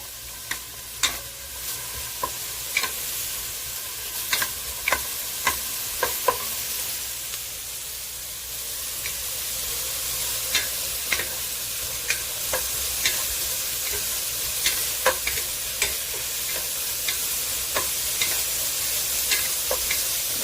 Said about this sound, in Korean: 마늘을 볶습니다